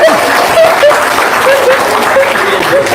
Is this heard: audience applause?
yes